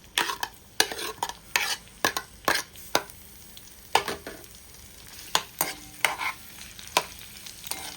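Onions and green chillies fry in hot oil in a pan for a chicken curry, a steady sizzle broken by repeated sharp scrapes and clatters of a spoon stirring at an irregular rhythm, close and fairly loud, no voices.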